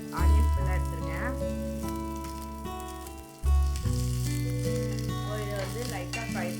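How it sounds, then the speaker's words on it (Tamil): Onion fries in hot olive oil in a kadai, with a loud, close, continuous sizzle that flares up at the start and again midway, broken by a few stirring sounds. "அது ஹீட் ஆன உடனே கொஞ்சமாக வந்து ஆனியன் சேர்த்துக்கோங்க."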